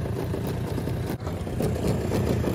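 Outboard motor on a 1998 Carolina Skiff J16 with a rebuilt carburetor, idling cold while warming up: a steady low, slightly uneven burble, close and moderately loud, with no talking.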